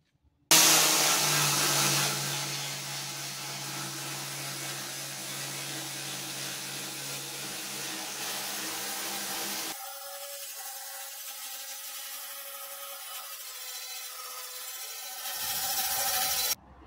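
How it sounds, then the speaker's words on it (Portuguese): Power sander grinding body filler off a Fiat Palio's bonnet, a loud steady broadband whir that drops in pitch and level midway, then surges again near the end. "Vou dar uma lixadeira aqui."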